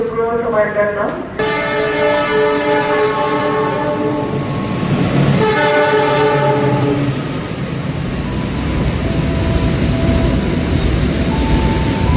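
A passenger train rumbles into Wates station with a long, loud horn blast, then a second one, over heavy rolling noise and wheel clatter that continues as it draws up.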